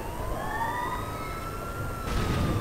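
A police siren wails in the video game GTA 4, rising and sliding in tone, somewhat distant, over a steady rumble of traffic noise.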